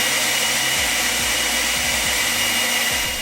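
An EGO Power+ 530 CFM battery leaf blower running on its high setting, a loud steady whooshing roar of rushing air that holds constant throughout with no talk.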